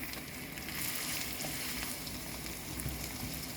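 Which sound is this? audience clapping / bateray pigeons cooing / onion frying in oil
onion frying in oil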